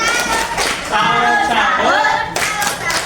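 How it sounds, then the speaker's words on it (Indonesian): Elementary school students clap together in a patterned classroom cheer, making bursts of group clapping mixed with voices. "Oke sekarang kita kasih tepuk salut"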